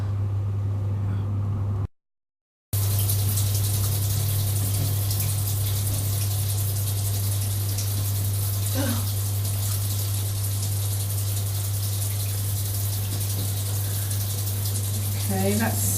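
Water runs steadily while conditioner is rinsed out of hair, a loud, close, continuous rush that cuts out for a moment near the start and then carries on unbroken.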